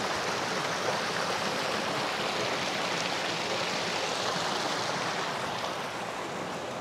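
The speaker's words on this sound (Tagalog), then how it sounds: "Ito na yung mini falls. Nagiging mini falls dahil sa mga bato." Constant rushing water of a small river cascade pours over rocks, a dense, even flow with no pauses and no voices.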